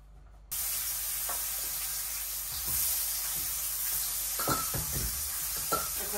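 Young, tender sweet pumpkin pieces fry in oil in a home kitchen. The sizzle starts abruptly and holds as a steady loud hiss, with a few soft knocks of utensil against pan over it.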